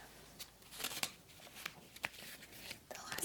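Soft, intermittent riffling and slapping of oracle cards being shuffled, quiet and close, in irregular bursts with faint breathy sounds between.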